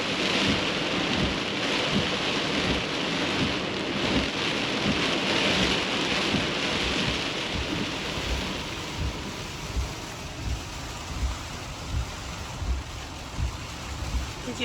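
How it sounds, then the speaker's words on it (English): Heavy rain pours during a large thunderstorm in Key West, Florida, a dense, loud hiss with low rumbling thunder throughout, easing slightly toward the end. "Yep, the heavy rain is here."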